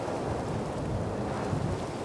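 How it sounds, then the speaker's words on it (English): Thunderstorm rumble with steady rain and gusting wind, a continuous low roar that stays loud throughout with no voices. "Storm is incoming."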